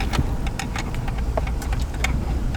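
A truck rolls along a rural road in northern Wisconsin, its engine a steady low rumble with road noise, close and continuous throughout.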